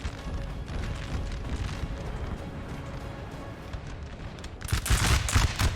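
Massed musket volleys and artillery fire from a Napoleon Total War battle rumble continuously, with a louder, crackling barrage of shots near the end.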